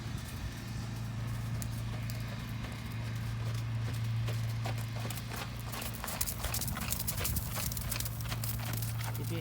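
Horse hooves clip-clop steadily through a riding lesson in an arena, a continuous walking rhythm over a constant low hum, with no talk in this stretch.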